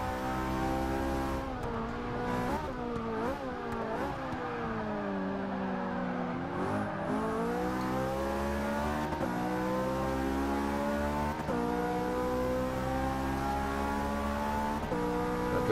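Ferrari race car in Forza 6 revving hard and running up through the gears, engine pitch climbing and dropping with each shift, loud and continuous for the whole stretch with no voices.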